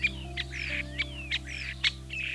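A starling calls in a quick series of whistles, squeaks and chatter that mimic other birds, close and clear over a low steady hum, with no talking.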